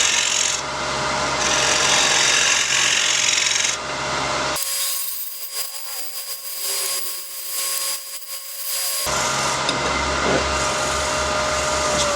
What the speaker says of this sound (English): tilt it a little bit, handle up, give it a good scrape